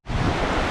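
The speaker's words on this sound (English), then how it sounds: "The waves are pretty crazy." Waves crash at Little Presque Isle on Lake Superior near Marquette, Michigan, a loud, continuous roar of surf and wind that swells in suddenly and fills the short moment with broad rushing noise.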